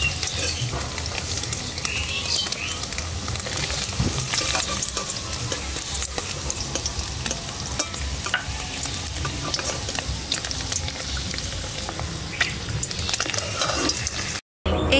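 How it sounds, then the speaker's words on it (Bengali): Paneer frying lightly in hot oil in a pan for palak paneer, a steady close sizzle with stirring that runs unbroken for the whole stretch before a brief cut near the end. "হালকা করে ভেজে নেব, বেশি ভাজবো না"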